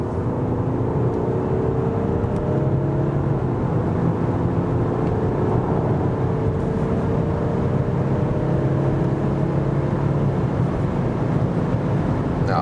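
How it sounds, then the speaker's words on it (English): A 2020 Audi A6 allroad quattro accelerating in 4th gear on a motorway, a steady, loud engine drone with rising tones blended into heavy road and wind rush from inside the cabin. "So I shift back to the 4th gear, for example, then you see that the acceleration is coming better now"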